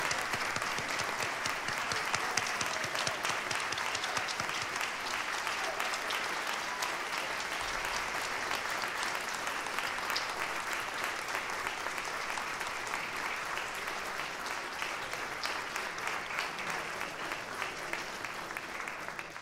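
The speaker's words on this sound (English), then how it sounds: "Let's have another round of applause for our amazing" An opera audience applauding singers and pianists after a performance, sustained dense clapping from a large crowd that holds steady throughout, with no talk over it.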